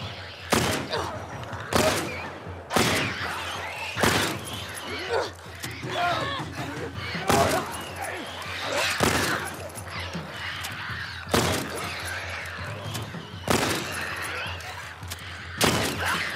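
Repeated gunshots in The Last of Us, sharp broadband bangs firing every second or two across the clip, with infected creatures shrieking and crowing between shots and a player's voice in the background.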